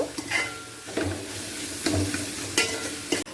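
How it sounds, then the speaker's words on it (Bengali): A spice paste of onion, ginger and garlic with coriander powder, black pepper and Kashmiri red chilli sizzles in a pan, punctuated by a few crisp scraping stirs and metallic clinks of a spoon against the pan. "এরপর পুরো মশলাটাকে ভালো করে কষিয়ে নেব"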